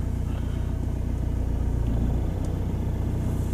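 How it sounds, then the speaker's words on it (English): Low engine rumble of a BMW X3 creeping along slowly in second gear, with a suspected judder while moving slowly; steady and continuous, fairly close, with no voices. "I'm going to slip it into second gear again"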